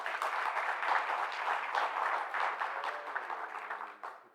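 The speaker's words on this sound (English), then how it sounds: "Let's please give him a round of applause." Sustained applause from a conference audience at a stakeholders' event, dense steady clapping with no voices that tapers off slightly at the end.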